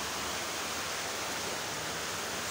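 Heavy rain pours with rushing water, a dense, unbroken roar of broadband noise that stays loud and even throughout.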